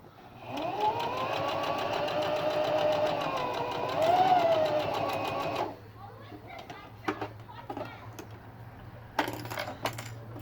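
A sewing machine hums and whirs as it stitches a fabric mask for several seconds, then stops abruptly, followed by scattered clicks and handling noises.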